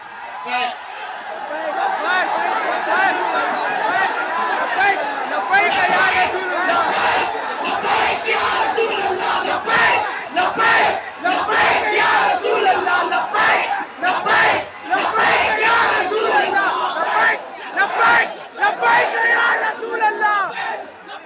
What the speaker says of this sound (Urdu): لبیک کا نعرہ لگاؤ